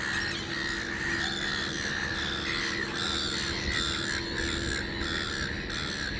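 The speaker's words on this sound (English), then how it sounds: "All right, seagulls, all right." Seagulls squawk and call repeatedly over Sydney Harbour, a fairly close, busy chorus of harsh cries over steady outdoor background noise, with no one talking.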